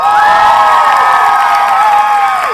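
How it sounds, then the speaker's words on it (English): A school audience at a student Skit Nite cheers and whoops loudly and continuously, with shouts and some clapping blended into a dense, sustained crowd roar from start to finish. "can I get a round of applause?"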